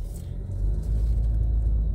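Car driving along a road in New York, a steady low engine and road rumble heard from inside the vehicle, continuous and fairly loud with no talk.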